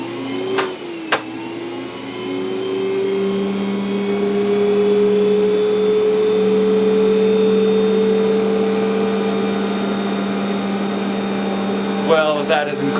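An electric motor from a printing press starts up after a couple of sharp switch clicks, its hum rising into a steady whining drone that runs loud and continuous, with a rattling flutter near the end.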